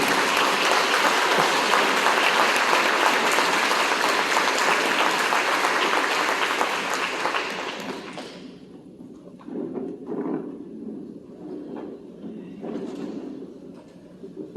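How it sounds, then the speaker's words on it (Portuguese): Church congregation at a Portuguese-language celebration service applauding, a loud sustained roll of clapping for about eight seconds that fades into scattered voices and room sounds. "Vamos aplaudir a palavra de Deus?"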